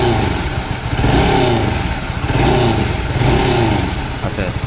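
A Honda CBR 150R Repsol motorcycle revs up and eases off about three times in steady swells, with a mid-pitched engine note and some extra rattling noise. The engine is close and loud.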